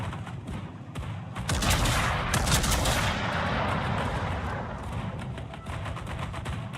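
Thunderer battleship main guns firing AP shells in World of Warships: a rapid crackle of shots, then a huge sustained roaring salvo with a long rumbling tail, loud and close, with no talk.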